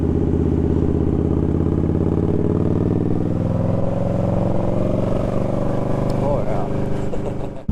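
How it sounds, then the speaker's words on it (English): An Indian Scout Rogue motorcycle cruises along with a loud, steady engine drone and rumble up close, its pitch holding fairly even before easing off at the end. "This is the new bike, Indian Scout Rogue, Misty."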